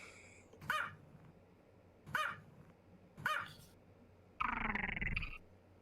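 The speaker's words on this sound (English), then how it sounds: "Is that a chihuahua sound?" A chihuahua gives three sharp, spaced barks, then a longer noisy yelp, fairly close and clear against a quiet background, with no one talking over it.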